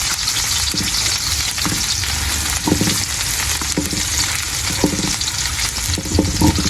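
Onion fries in a pan for chicken adobo, giving a loud, dense, continuous sizzle close by, broken by repeated scraping strokes of stirring at an uneven rhythm.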